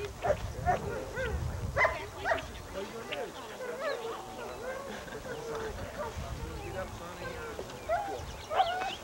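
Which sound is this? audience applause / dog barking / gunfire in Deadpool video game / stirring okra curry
dog barking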